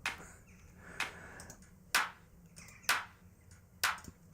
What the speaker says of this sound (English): these are the claps